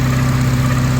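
A 2.4L Honda Accord engine idles steadily after a VTEC solenoid gasket repair, a loud, close, even low hum with a smooth rhythmic pulse.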